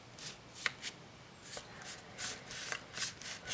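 Fortune-telling cards shuffled by hand in a quiet room, a soft papery riffle repeating in short bursts about every half second, close and faint with no voices.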